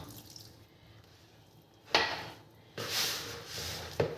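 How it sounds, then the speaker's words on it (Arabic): Water poured into crumbly tea-biscuit dough made without butter, eggs or milk, coming in a few short splashing bursts with quiet pauses between. "فكده انا محتاجه بقى الميه ايه هنحطها"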